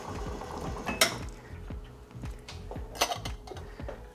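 A Slayer espresso machine's group head is purged, its pump buzzing in a fast steady pulse with a soft rush of water and a couple of sharp clicks, heard close and fairly quiet.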